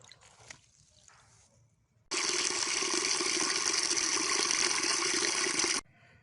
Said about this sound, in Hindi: अभी हम ये सब दाल इस कढ़ाई के अंदर डाल देंगे और धुलाई कर लेंगे दाल को